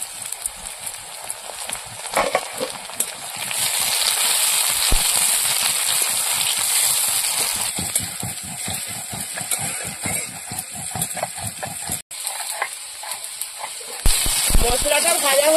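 Spices frying in oil in a kadai, a crackling, sputtering sizzle with rapid ticking pops up close, varying in intensity, with a brief sharp break near the end.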